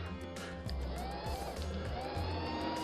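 A Hornby R336 Holden 0-4-0 tank model locomotive motor runs with a steady low electric whir and faint high whine, close and continuous, with no talk.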